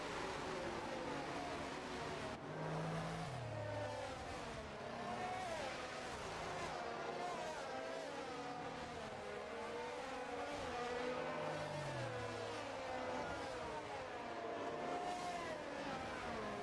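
Race cars in a sim racing game lap the Austria circuit behind a safety car, their engines droning steadily and loudly throughout with rising and falling revs and no break.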